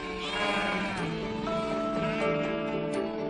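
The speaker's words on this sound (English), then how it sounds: "I think Miss Potter would have been very pleased to see her favourite breed of sheep doing so well." Sheep bleat repeatedly on a farm in the Cumbrian fells, loud and close, the overlapping wavering calls from several animals carrying on steadily with no talk.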